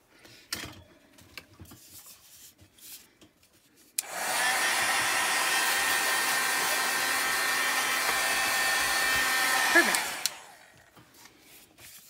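A heat tool blows a loud, steady whoosh for about six seconds while drying chalk paste on a mistletoe craft project, then cuts off, leaving quiet room sound and small handling noises.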